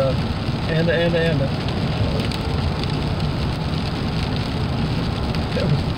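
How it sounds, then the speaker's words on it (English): Rain patters steadily on a car during a cold, rainy drive in Central Texas, a dense continuous hiss with faint voices briefly underneath early on. "It's not foggy, it's just kind of raining"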